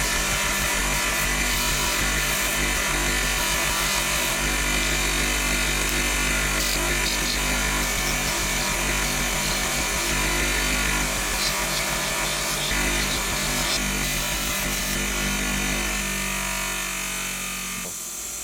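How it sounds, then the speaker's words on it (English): The edges of a Swiss Army knife's aluminum liner are polished on a power tool, giving a loud, continuous whirring grind that runs steadily and then slowly fades near the end. "So next step is to polish the edges of the aluminum liner."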